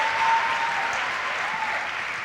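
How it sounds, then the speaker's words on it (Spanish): Steady, dense applause from a church congregation at a 2009 worship service in London with Juan Carlos Alvarado, sustained throughout at an even level with no voices above it. "un aplauso a ustedes mismos"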